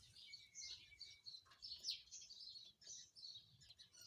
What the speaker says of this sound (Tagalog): Yan, may young bird na naman tayo dito.